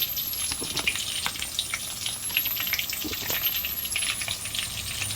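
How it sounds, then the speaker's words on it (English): Curry powder sizzling in hot oil with onions and garlic for Jamaican curry crab, a steady, bright hiss and crackle of frying with occasional stirring, close and continuous. "And I will now add a little more curry to the oil."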